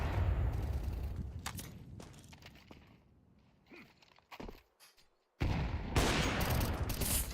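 Sniper rifle fire in a competitive video game lands in loud, dense bursts at the start and again near the end, with quieter scattered shots and footsteps between them and a short silent gap.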